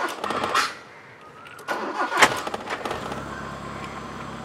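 A car engine on a DIY push-start ignition setup cranks briefly, then catches and fires up, settling into a steady nearby idle.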